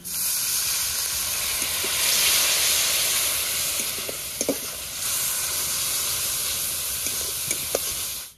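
Spice paste with Kashmiri chili powder, salt and a splash of water sizzles and fries steadily in a pan for a whole bitter gourd curry, a loud continuous hiss with occasional spoon scrapes and pops.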